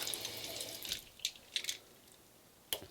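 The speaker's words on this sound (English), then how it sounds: "You rinse your brushes one last time." Water runs from a tap while makeup brushes are rinsed under it, a soft steady splash with a few brief drips and clicks, quiet and close.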